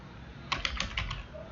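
Keystrokes on a computer keyboard, five or six quick distinct clicks in a short burst after a quiet moment, close and fairly soft over low room hum.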